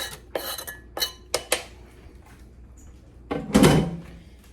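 Chopped onion tipped into a pot of taco soup, a series of clinks and knocks of utensil against pot followed by a louder scraping clatter near the end, close and alone without speech.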